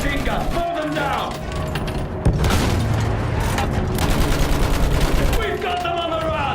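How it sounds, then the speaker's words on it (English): Dense, rapid machine gun fire rattles continuously in a Battlefield 1 battle scene, with booming impacts and distant blasts mixed in and shouted voices over the din. "Use that machine gun! Mow them down!"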